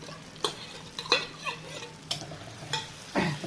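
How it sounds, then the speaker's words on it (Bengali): Spices fry in a pan with a soft background sizzle, punctuated by several sharp scraping stirs of a spoon against the metal at irregular intervals. "এই মশলাগুলো সব ভেজে নিচ্ছি।"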